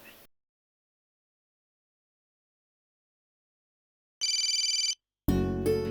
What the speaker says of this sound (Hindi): प्रिया का फोन।